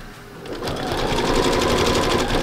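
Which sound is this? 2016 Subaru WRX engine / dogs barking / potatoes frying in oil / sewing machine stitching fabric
sewing machine stitching fabric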